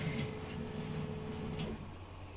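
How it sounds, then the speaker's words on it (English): A printer runs with a low mechanical hum and whir, broken by a few faint ticks and clicks, then the motor drops off near the end. "that's the printer going a bit mad"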